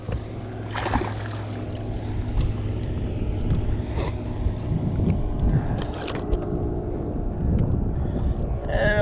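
A motorboat passes on the Potomac River during a fishing trip, a steady low engine drone with water wash and wind buffeting the microphone, fairly loud and continuous throughout.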